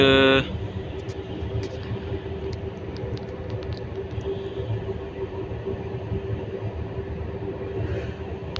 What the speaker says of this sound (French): il y a un appel d'air entre les TGV et les TER